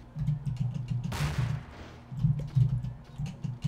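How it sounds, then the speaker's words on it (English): Explosions in the video game Melonbomber: a single broad, loud noisy burst about a second long in the middle, over a steady low game-music hum that carries on beneath it. "I just walked through an explosion"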